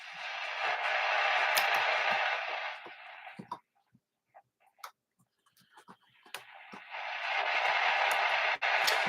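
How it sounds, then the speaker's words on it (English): Broadband static hiss from a Bush MB60 portable valve radio with no station tuned, loud for several seconds, then dropping to near silence broken by small clicks and ticks before the hiss returns. "Well, we haven't got any stations, but we've got static."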